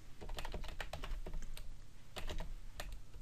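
Code for a Unity 3D first-person shooter script is typed on a computer keyboard: quick, close, irregular key clicks in steady bursts, with no voice.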